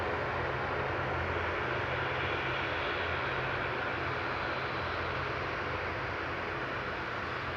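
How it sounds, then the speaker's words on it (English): An ATR turboprop airliner at Manchester Airport gives a steady, broad engine roar that holds evenly throughout, a continuous mid-distance drone with no voices. "This is an ATR substitute, GPMB flight 671."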